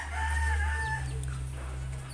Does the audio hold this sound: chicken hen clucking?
yes